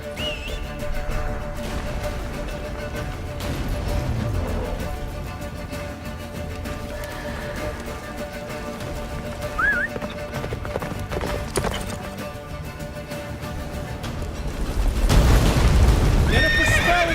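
Roach, the horse in the video game Witcher 3, neighs and whinnies over galloping hoofbeats amid game music and rumbling action, with a louder surge of effects near the end.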